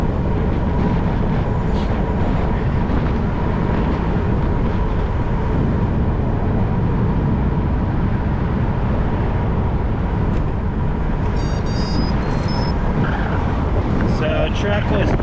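Cars passing on a busier road, heard as a steady loud roar of traffic and wind noise with a few brief high squeaks near the end.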